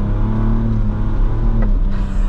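A 2022 Ford Bronco Raptor engine drones steadily close up during off-road driving, its pitch stepping briefly as the automatic transmission shifts through closely spaced gears, with no talk.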